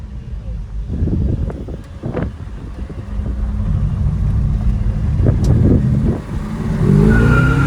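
A 1967 Plymouth GTX with a 440 engine accelerates hard, its deep low rumble swelling and rising as it pulls away, mixed with wind buffeting on the microphone.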